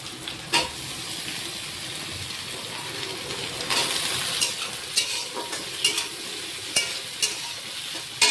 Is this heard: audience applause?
no